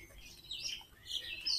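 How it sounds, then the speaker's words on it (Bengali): Assorted small birds chirping outdoors along a rural road on a foggy morning, a few faint, brief tweets over quiet background noise. "বিভিন্ন রকম পাখির কিচিরমিচির"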